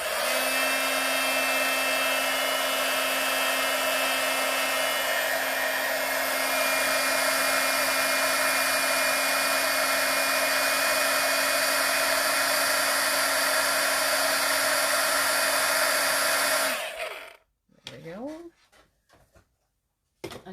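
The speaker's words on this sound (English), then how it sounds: "I'm going to bring in my heat gun." Steady loud blowing whir with a constant hum runs for about seventeen seconds, then cuts off, leaving a few faint clicks.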